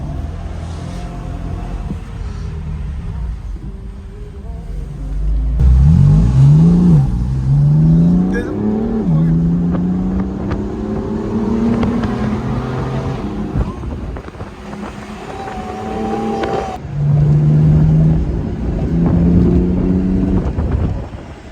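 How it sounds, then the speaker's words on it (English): A BMW M4 convertible driving with the top down: engine tones rise and fall as it accelerates and shifts, under steady wind rush, loud and close, with no voices. "I've always wanted to take a ride in an M4."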